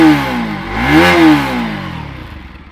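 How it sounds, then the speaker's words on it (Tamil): Bajaj Pulsar NS200 motorcycle with an underbelly exhaust, revved hard twice in quick succession, the engine note rising and falling before settling back toward idle, loud and close with no talking. "அதே வந்து NS200 பார்க்கும்போது இது வந்து அண்டர்பெல்லி எக்ஸாஸ்ட் கொடுத்துருக்காங்க"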